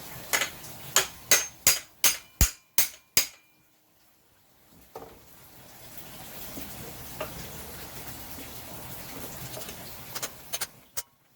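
A bearing is tapped into a Dewalt 734 planer cutterhead through a scrap of wood, about eight sharp, evenly spaced close knocks, then quieter handling noise and a few faint taps.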